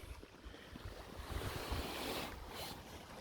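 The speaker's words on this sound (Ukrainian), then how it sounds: "Як бурлить вода" Water churns and bubbles in a steady, rushing wash, mixed with outdoor wind buffeting the microphone and low rumbling thumps, fairly faint overall.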